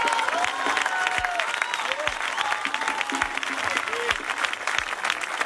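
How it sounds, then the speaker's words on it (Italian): An outdoor audience in a park in Arenzano claps for a young performer at a symphonic concert, steady applause under faint overlapping voices, with sparse individual claps cutting through. "E vai, vai, beccati gli applausi."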